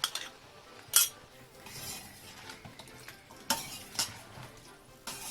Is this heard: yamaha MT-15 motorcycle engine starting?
no